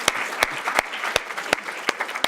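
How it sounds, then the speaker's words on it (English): An audience at a school program celebration applauds for Peter, with steady close clapping marked by sharp individual claps standing out at regular intervals. "Let's clap Peter."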